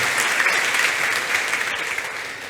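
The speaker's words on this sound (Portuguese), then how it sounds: "Você pode dar uma salva de palmas, minhas duas má notícias?" An audience at a talk applauds: a dense, continuous wash of clapping from many hands, steady and fairly loud throughout, easing off slightly at the end.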